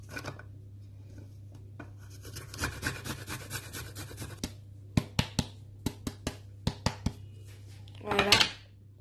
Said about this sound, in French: on est en train de râper les oignons. Je voulais dire l'ail.